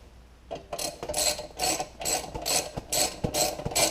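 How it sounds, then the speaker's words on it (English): A ratchet tightening bolts on a heat shield, eight or so rapid close clicking strokes in a steady back-and-forth rhythm, with small metallic knocks between them. "I can get my ratchet in here better"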